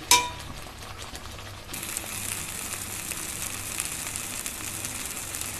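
Masala for shahi paneer fries in a pan with raisins and salt, a brief clink first, then a steady close sizzle that grows louder after a couple of seconds and continues without speech.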